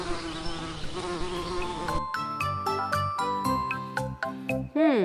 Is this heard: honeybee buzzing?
yes